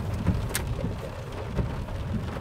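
Steady rain patters and hisses on a car nearby after dark, with a soft low rumble underneath and no voices.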